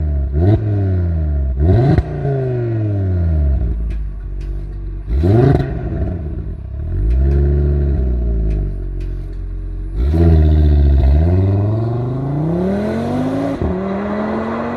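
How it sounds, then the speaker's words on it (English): A turbocharged five-cylinder exhaust revs loudly and repeatedly, each rev climbing and falling back in a throaty roar, close by, with no talking. "that iconic rally-inspired exhaust note"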